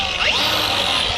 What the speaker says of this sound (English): this grinder here with this sanding disc, this is the hot ticket.